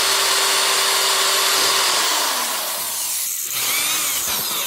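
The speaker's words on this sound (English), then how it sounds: "start drilling for the stud." A power drill bores a hole through the plastic front bumper of an FRS/BRZ for a Quik Latch stud, a loud steady whine that shifts pitch partway through as the bit cuts, close up and continuous with no talking.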